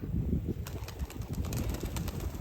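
Pigeons leaving a home loft, a flurry of wing flaps close by over low rumbling background noise with no talking.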